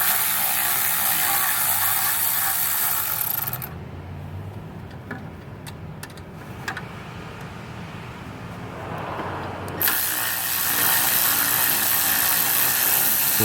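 A ratchet wrench loosens heat shield bolts on a Ford 6.4 Powerstroke diesel engine during turbo removal, giving steady, close metallic clicking throughout that softens briefly in the middle before returning at full strength.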